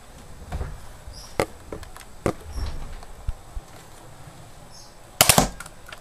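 A Buzz Bee toy dart blaster fires a double shot in two quick, sharp pops close by, with scattered faint clicks and knocks leading up to them and no talking.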